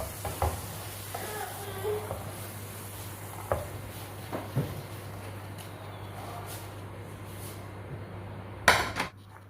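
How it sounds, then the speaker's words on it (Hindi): Taro (arvi) pieces fry in oil with a soft, steady sizzle, broken by occasional stirring scrapes and light clinks of utensils against the pan, quiet and close, with no speech. "जो बाकी वाली है उन तमाम को भी मैं ऐसे ही फ्राई कर लूँगी"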